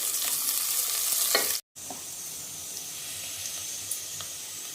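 Thinly sliced onions frying until brown for veg biryani, a bright close sizzle with a few stirring scrapes, cut by a brief gap of silence before the frying resumes more quietly.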